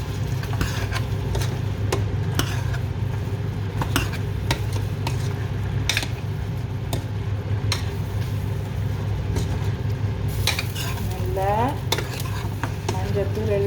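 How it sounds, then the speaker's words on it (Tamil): A spoon scraping and clanking against a pot as beef bones with turmeric are stirred, with irregular knocks over a steady background hum and occasional faint voices. "நல்லா கிண்டி விட போகிறோம்."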